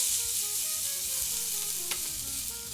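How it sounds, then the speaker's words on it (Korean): Burdock stir-frying in oil in a pan, a steady bright sizzle with a light scrape of stirring near the end, close and continuous without speech. "여기 있는 기름 가지고 볶겠습니다"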